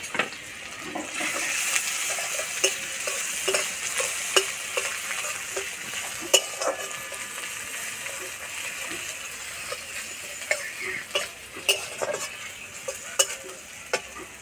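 Chopped onion, grated ginger and garlic, whole cumin and green chilli sizzle in hot oil, a close hiss broken by frequent sharp clicks and scrapes as a spatula stirs the pan.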